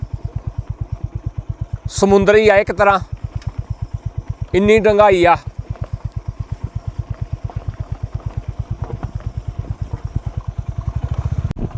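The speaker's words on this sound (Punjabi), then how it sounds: "ਮੋਟਰਸਾਈਕਲ ਪੱਥਰਾਂ ਦੇ ਉੱਪਰੋਂ ਖਿਸ ਗਿਆ" A motorcycle engine putters steadily at low revs as the bike rolls over stones near a Punjab village. It is close and continuous, with someone speaking over it twice and a faint clatter underneath.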